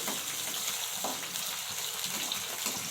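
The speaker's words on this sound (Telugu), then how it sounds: "ఇప్పుడు మనం ఆయిల్లో కట్ చేసి పెట్టుకున్నటువంటి ఉల్లిపాయలు వేసుకోవాలి" Chopped onions fry in hot oil for an eggplant and tomato fry, making a continuous bright sizzle and crackle at moderate level with a single stirring knock, no voices.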